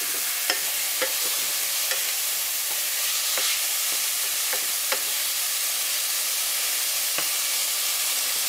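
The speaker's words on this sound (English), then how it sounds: "I just put the ground beef in, and you saute that." Ground beef sautéing in a pan for a pasta gravy gives a steady, close sizzle, broken by a few sharp clicks and scrapes from stirring. No one speaks.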